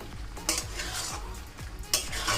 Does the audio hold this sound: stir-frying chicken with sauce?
yes